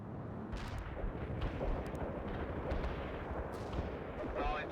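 Artillery strike in the video game World in Conflict: a dense, continuous rumble of heavy blasts and crackling detonations rolling on throughout, loud and low, with faint voice traces in the mix.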